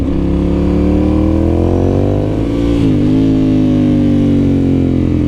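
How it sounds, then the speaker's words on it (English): Engine of a 2009 Ducati Monster 1100 motorcycle while riding: loud, close revving that climbs in pitch, dips briefly as the throttle is released, then pulls up again, with no talk. "I can't understand how good this bike sounds."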